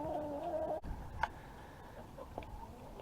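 A brooding hen, just let out of separation and returned to her flock, gives soft, low clucks and a few short sharp calls, fairly close and moderately loud over outdoor background noise.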